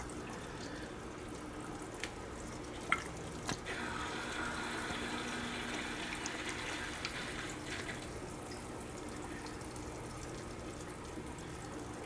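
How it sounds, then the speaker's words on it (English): Small nano reef aquarium with a surface skimmer pump drawing water down and forming a little cascade; a steady close trickling and gurgling runs throughout, with a few brief clicks and splashes early on. "the suction of the pump takes it right on down"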